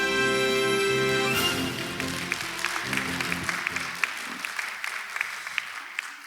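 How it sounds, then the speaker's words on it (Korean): An audience at a biotech conference claps to welcome the president of a clinical pharmacology society to give a welcome address. Music fades out early, and dense applause continues steadily, thinning into scattered claps toward the end. "큰 박수로 맞이해 주시기 바랍니다."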